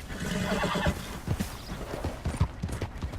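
A horse's hooves clip-clop in an uneven rhythm, and a whinny rises partway through, fairly close and clear, in the video game Red Dead Redemption 2.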